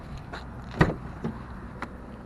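The door of a 2009 Dodge Caliber SXT opens with a brief latch click and a couple of soft thuds, close by and fairly quiet.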